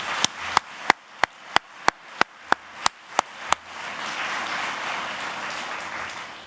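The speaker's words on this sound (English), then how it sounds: "another round of applause for all of these awesome teachers" Audience applause at a teachers' award ceremony: a run of single sharp, evenly spaced claps gives way to a broad, steady wash of crowd clapping that holds to the end, with no talking.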